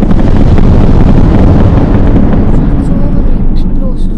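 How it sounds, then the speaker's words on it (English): Continuous loud roaring blasts pile on top of each other, a dense rumbling wall of explosions with no pause, in the space game Pocket Galaxy. "So many explosions."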